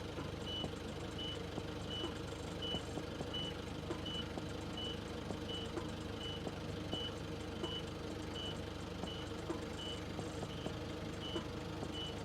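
A forklift's reversing alarm beeps steadily at an even rhythm while the truck backs up, set against a constant low engine rumble.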